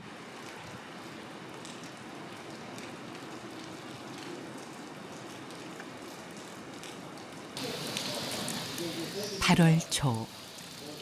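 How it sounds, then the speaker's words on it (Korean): Rain falls across Seoul as a steady, even hiss that runs throughout, then grows louder and busier near the end, where a voice speaks briefly over it. "서울은 온통 빗소리로 가득했습니다"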